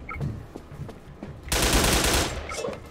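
Enemy gunfire in the online shooter Wolfteam, scattered single shots followed by a dense, loud rattling burst of automatic fire, then a few more pops, all close and without talking.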